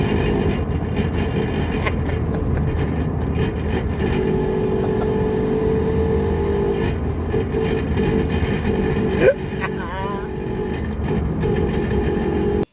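A failing differential in a Mazda Miata MX-5 NA makes a steady mechanical drone with a low rumbling hum and a faint whine, continuous throughout, with a brief squeal near the end.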